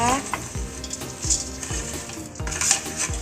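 Fried shallots stirred into pork cracklings in a pan over low heat for a Thai pork chili paste, a steady sizzle with a regular rhythm of spoon scrapes against the pan, near and clear.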